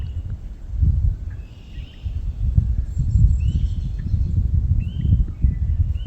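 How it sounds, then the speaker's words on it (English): Red-winged blackbirds and grackles sing outdoors in Rondeau Provincial Park, Ontario, with scattered chirps and calls over a steady low rumble of wind or distant noise, the birds sounding moderately far off. "You're mostly hearing red-winged blackbirds, grackles."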